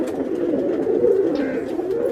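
Pigeons coo in a steady, low, throaty murmur that runs throughout, with faint chirps from other birds in the background.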